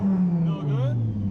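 Audi UrS4 C4 with the AAN engine and 6-speed transmission, revving on launch control: a close, steady engine drone with a rising rev partway through, then settling, under faint background sound.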